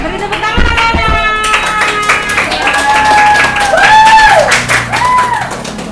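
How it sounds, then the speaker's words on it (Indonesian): A class of children claps and cheers in a mixed burst, with scattered hand slaps under excited voices and a few high whoops, moderately loud in the room. "Beri tepuk tangan anak-anak."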